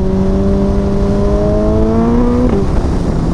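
Suzuki Hayabusa motorcycle (190 hp) accelerating hard on a damp road, engine tone rising steadily then dropping sharply at a quickshifter gear change, with heavy wind rush throughout.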